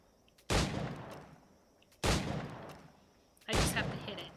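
Three loud gunshots in a pirate video game, fired at targets about a second and a half apart, each a sharp crack followed by a long decaying rumble.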